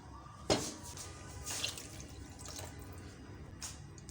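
Water being poured into a cooking pot for a fish and potato curry, heard as a sharp splash followed by soft trickling and dripping at close range, fairly quiet, with no talking.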